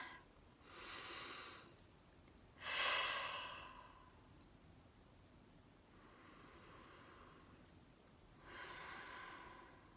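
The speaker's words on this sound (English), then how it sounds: "So take a few deep breaths again." Slow, deep breaths drawn in and let out in three or four long, soft airy waves, close and quiet, with one fuller sighing exhale standing out; no talking.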